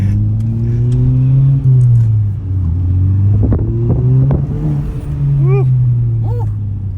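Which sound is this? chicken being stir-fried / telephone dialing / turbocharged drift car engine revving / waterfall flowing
turbocharged drift car engine revving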